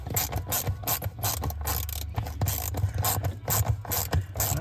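Ratchet wrench turning 7/16 body bolts on a Hummer H1, rapid repeated clicking strokes in quick bursts, loud and close with no talking.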